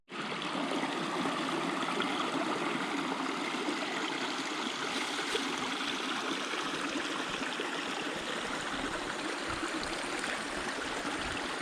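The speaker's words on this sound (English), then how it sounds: "Nice little babbling brook." A small babbling brook beside a mountain hiking trail rushes and trickles in a steady, close, continuous wash of water with no talking over it.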